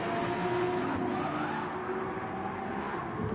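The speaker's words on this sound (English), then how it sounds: "Dutchie making his way through the final corner in his bright orange Porsche" A bright orange Porsche race car in Gran Turismo 7 taking the final corner at the Nürburgring GP circuit: a continuous, loud engine drone with a hint of tire squeal.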